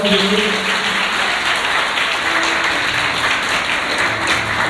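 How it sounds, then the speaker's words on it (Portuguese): Congregation at a church sermon applauding a volunteer actor, a steady loud wash of clapping with faint voices and tonal sounds underneath. "Vamos aplaudir o nosso ator."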